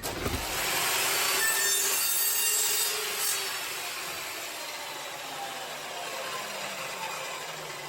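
A saw cuts through mild steel sections: a steady, continuous rasping grind close by, loud through the first seconds and then easing slightly as it carries on alone without any talk.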